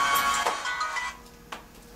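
A telephone rings faintly in a room, a short electronic ring tone trailing off, followed by a brief soft knock; no talking.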